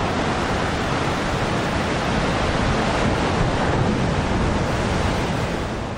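Huge ocean waves crash and roar along the Camarines Sur coast during a super typhoon, with strong wind adding a constant loud, dense rush that never lets up.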